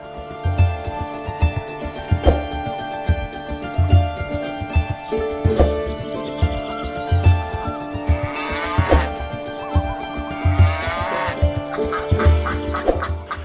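A dairy cow that has just calved, being treated on a farm, moos repeatedly in long, loud, close lowing calls, with other farm animals and fowl faintly audible in the background.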